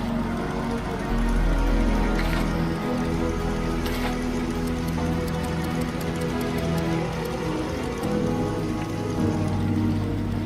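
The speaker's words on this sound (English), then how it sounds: "Now it's gonna be pouring down rain." Heavy rain pours down in the Fallout 76 video game world, a dense, steady hiss of drops on surfaces with a few sharper spatters and a low rumble underneath, continuous and loud.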